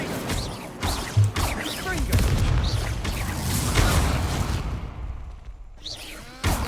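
Incendio fire spell cast in the game Hogwarts Legacy, a burst of flame whooshing and booming amid repeated magic impacts, loud and close, with a player talking over the spellwork.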